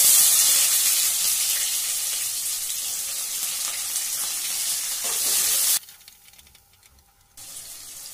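Chopped onions frying in oil in a pan for egg fried rice give a loud, steady broadband sizzle that drops sharply near the end, then picks up again more quietly.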